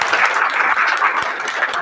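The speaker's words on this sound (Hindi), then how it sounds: "एक बार इनके लिए जोरदार ताली।" Applause from an audience at a Hindi-language RCM business marketing-plan meeting, a steady dense wash of clapping from a crowd that continues evenly through the whole moment.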